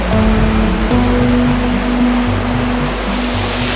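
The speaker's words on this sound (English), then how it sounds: "So this is obviously the sulfur spring where the hot water comes out." Hot sulphur spring water pours out in a steady, loud, continuous rush, a dense splashing roar with a faint low hum beneath and no voices.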